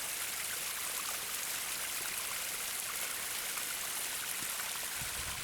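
A clear mountain stream flows near Storseter waterfall in Geiranger, a steady broadband rush of running water that fills the whole clip without a break, close and even in level, with no voices.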